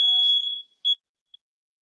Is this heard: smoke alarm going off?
yes